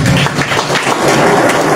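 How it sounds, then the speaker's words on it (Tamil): A crowd claps at a speech event, with dense, loud, continuous applause that fills the whole short stretch. "எங்கே உங்களுடைய கரகோஷம்?"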